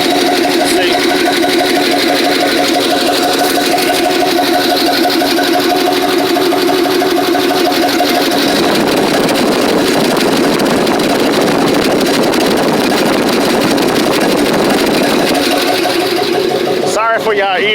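Small-block Chevy V8 with a little two-barrel carburetor idles loud and steady at close range, its tone shifting partway through, and a short clatter sounds at the very end.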